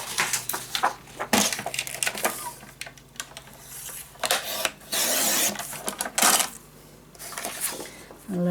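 Paper is being cut for a Christmas mini album scrapbook page, with close crisp slicing and rustling strokes, a few loud hissing passes and paper handling between them.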